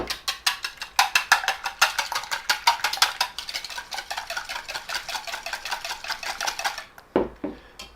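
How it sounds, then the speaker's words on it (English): Two eggs whisked in a bowl for skillet cornbread, a fast, steady run of bright metallic clicks against the bowl, close and clear, ending in a few slower taps. "Okay, so 2 eggs. Going to whisk those up."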